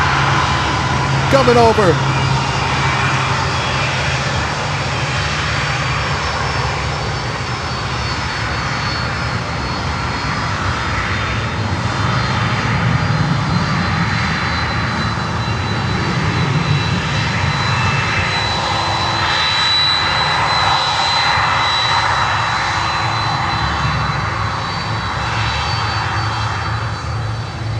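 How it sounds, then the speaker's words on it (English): Air Canada cargo jet spooling up at Miami, a loud continuous engine roar with rising whine holding steady throughout, with a person briefly speaking over it. "Air Canada cargo spooling up."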